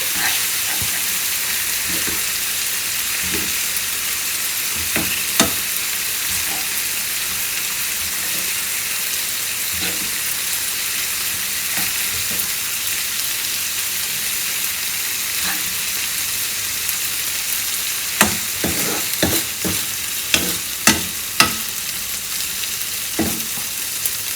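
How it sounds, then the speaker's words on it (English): Boiled eggs fry in pepper masala with a steady, loud sizzle like rain on a surface, punctuated by occasional clicks and scrapes from a spatula, growing busier toward the end. "So we'll allow this to fry for maybe just a few minutes."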